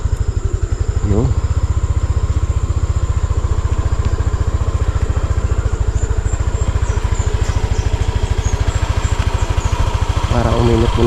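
A motorcycle engine idles steadily to warm up, a close, even low putter throughout, while someone speaks briefly over it near the start and end.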